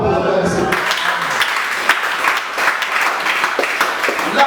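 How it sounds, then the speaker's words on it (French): A church congregation breaks into sustained applause, a dense, loud wash of clapping from many people that follows a brief voice at the start and carries on steadily. "Acclamons pour la Seigneur."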